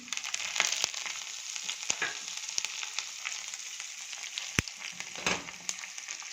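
Tempering of sesame seeds and chillies frying in oil as chopped green coriander goes in, a soft continuous sizzle and crackle with scattered sharp spatter pops and stirring clicks, fairly quiet and without talk.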